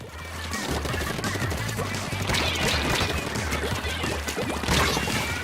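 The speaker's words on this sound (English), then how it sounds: "Someone on the other team's got some tenta missiles going." Tenta missiles burst across a Splatoon 2 Splatfest match, a dense, continuous barrage of splattering blasts and crashes layered over game music and effects, loud and close throughout.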